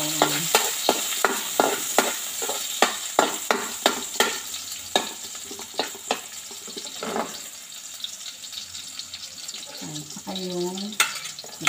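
Garlic sautéing in a pan for a ginisang ampalaya dish with chicken liver and gizzard, sharp scraping stirs repeating at close range over a steady sizzle, then a brief run of tap water near the end.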